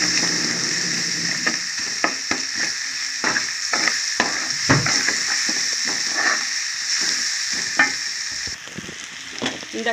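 Garam masala paste frying in a chicken curry with onions, a loud, steady close sizzle and hiss punctuated by repeated rhythmic spatula scrapes against the pot, with no voices over it.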